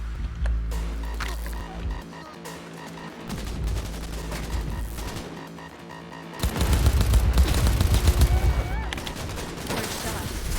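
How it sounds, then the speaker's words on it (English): Gunfire from a firefight in the video game Cyberpunk, a dense burst of shots and loud impacts that swells sharply into heavier rapid fire partway through, over busy game sound with a voice now and then. "Taking fire!"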